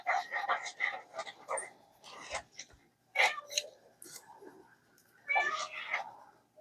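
A cat meows at a door repeatedly in short, plaintive calls with pauses between, close by, and a person speaks softly in between.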